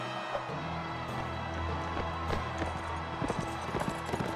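Horse galloping in Mount and Blade: Warband, a steady run of hoofbeats over faint background battle ambience, quiet and fairly distant throughout.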